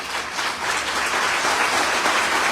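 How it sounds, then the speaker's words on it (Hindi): A crowd claps hard and continuously at a debt-relief team event, dense even applause filling the whole stretch without voices. "मैं चाहता हूं एक बार जोरदार तालियां आप लोगों के लिए हो जाए।"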